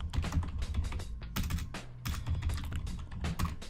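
A command is typed on a computer keyboard in rapid, uneven bursts of close, crisp key taps, with brief pauses between keystroke clusters and no voice.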